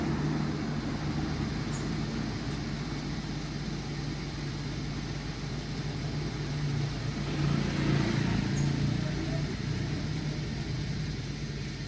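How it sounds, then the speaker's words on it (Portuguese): A Volkswagen Golf Sportline 1.6 running on ethanol idles at a fuel pump, a steady low engine rumble close by, swelling slightly midway, with no talking. "Tô com o carro ligado, tá, galera? O carro tá ligado pra poder acompanhar a bomba ali."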